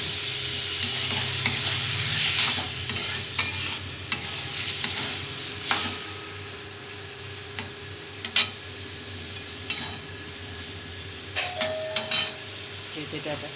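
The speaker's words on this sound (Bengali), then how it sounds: "অল্প করে জল দিলাম।" Spice masala for a vegetarian cauliflower, potato and soya chunk curry sizzles in a pan after a little water is added, giving a steady hiss with scattered clinks and scrapes of stirring.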